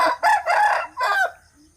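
Early-morning rooster crowing rings out loud and clear in three bursts, the final call stretched and trailing off, with faint calls from other birds around it.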